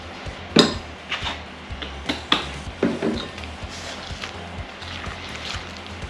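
Cookie dough with vanilla extract is mixed in a bowl, a utensil knocking and scraping against the bowl in a string of irregular clinks and taps, close and without talk.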